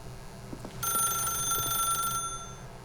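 In the video game The Stanley Parable, a telephone rings with a bright, sustained electronic trill lasting over a second over a low background hum.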